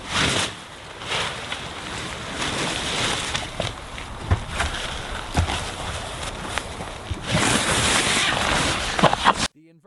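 A canoe moves through choppy waves on a remote wilderness lake, pushed by a single-blade paddle. Water sloshes and splashes near the hull over gusting wind, with surges of louder rushing and brief paddle strokes.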